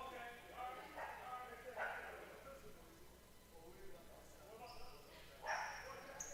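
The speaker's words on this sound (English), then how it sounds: "I did hear a dog in the gym." A dog barks and yips a few times somewhere in a gym during a high school girls' basketball game, faint and distant, under a broadcast announcer's talk and crowd noise.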